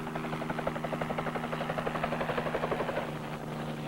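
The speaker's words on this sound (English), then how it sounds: "Then the helicopter heads for the other end of the line, paying out wire swiftly over terrain no other vehicle could cover." Marine helicopter in flight while paying out wire, its rotor throbbing in a steady rapid pulse over a constant engine hum, fairly close and alone.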